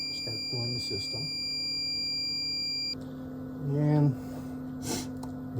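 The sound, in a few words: alarm of Brown's Gas Machine Model T6633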